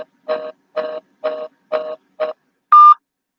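Telephone keypad tones sound loud and close: five evenly spaced dual-tone beeps, then a longer, purer tone after a short pause.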